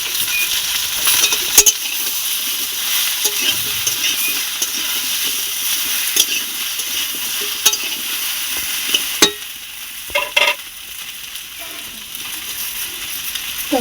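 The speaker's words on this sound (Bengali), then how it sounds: "আমি বেগুনটাই ভেজে নেব এটা আমি একটু অল্প করে তেল অ্যাড করবো" Eggplant frying in a small amount of oil in a pan, giving a steady broad sizzle throughout with occasional sharp clinks of a utensil against the pan.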